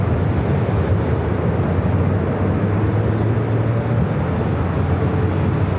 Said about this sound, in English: Got that Cathay Pacific 777-300ER coming in from Hong Kong.